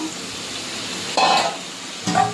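Spice masala frying in oil as mustard paste is added: a soft steady sizzle broken by two brief, louder bursts of stirring and spattering.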